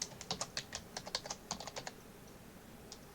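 Close, quiet typing on a computer keyboard: a steady run of distinct key clicks for about two seconds, then a pause and one last stray tap, with no talk.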